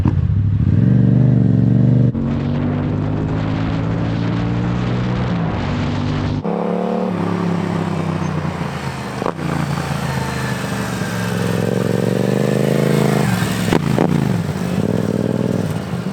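A Honda Grom motorcycle is ridden at speed on a long highway trip, its small single engine droning loud and close. The pitch rises and falls as the revs change, with wind and road rumble underneath.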